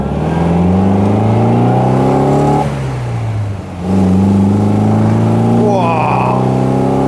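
An MG MGA classic roadster engine revs up through the gears, its steady rising drone dropping briefly at a gear change before climbing again. It sounds loud and close, heard from the car as it accelerates.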